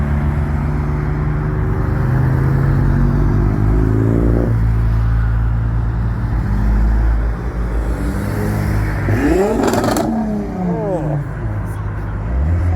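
A loud Audi A5 TDI pulls away from a car meet, a deep engine rumble that swells and then fades, with a sharp revving burst partway through and people chatting nearby.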